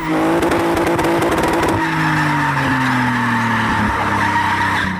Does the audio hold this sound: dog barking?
no